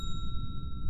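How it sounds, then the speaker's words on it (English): A single bell rings with a bright, sustained metallic tone, steady and close over a low rumbling background. "I've got a bell here, David."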